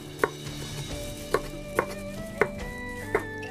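A knife cuts a seeded bell pepper on a cutting board with five crisp, evenly spaced chops that are quiet and close, with no talking.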